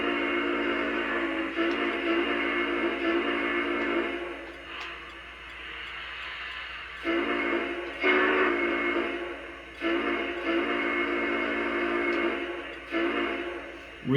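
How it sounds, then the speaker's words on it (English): A deep, loud locomotive whistle sounds in long sustained blasts with brief breaks, rich in harmonic tones, heard close and alone. "let's listen to this awesome whistle that it has"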